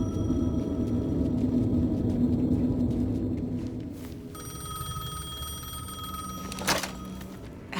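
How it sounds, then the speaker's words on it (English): A payphone rings in a nighttime scene of the video game Alan Wake 2, with a low ambient rumble at first, then a steady electronic bell tone with a sharp thunk near the end, no voices. "The payphone was ringing."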